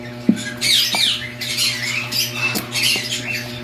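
Birds squawk and chatter in quick, shrill bursts with sharp clicks, close and fairly loud, continuing throughout without any talking.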